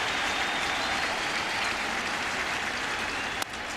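Baseball crowd at a Nationals–Cardinals game cheering for the third out: a dense, steady wash of cheering and applause from a large stadium audience, sustained throughout with no single voice standing out.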